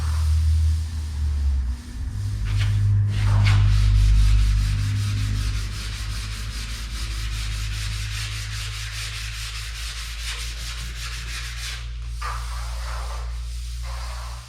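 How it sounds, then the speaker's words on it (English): Steady scratchy rubbing of sandpaper worked back and forth by hand over edges during dry then wet sanding, continuous and close, with a low hum underneath. "by hand it's a little easier to control what you're sanding on edges."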